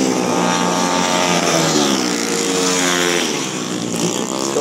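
Several 115cc automatic racing motorcycles with stock stroke and 25mm carburettors scream through a corner at a Hat Yai road race, their engine whines overlapping loudly and dipping in pitch before climbing again.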